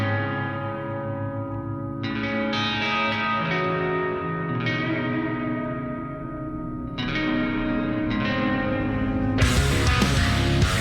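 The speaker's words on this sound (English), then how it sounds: "the reverb's lovely too" Sustained, distorted music tones ring out with a wash of reverb trailing each note, swelling louder near the end into a dense burst.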